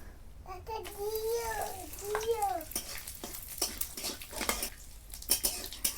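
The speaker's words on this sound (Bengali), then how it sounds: "ওই তেলের মধ্যেই আমি দিয়ে দেব তেজপাতা, লঙ্কা, জিরে, এলাচ আর কাঠছাল" Bay leaf, chili, cumin, cardamom and cinnamon crackle in hot oil as a spoon stirs and scrapes the pan, while a small child babbles and vocalizes nearby.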